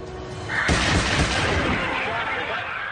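A loud, sharp blast bursts out at close range, like a shot from an Iver Johnson Cadet revolver, then rings into a long, dense rumbling decay that fills the rest of the moment.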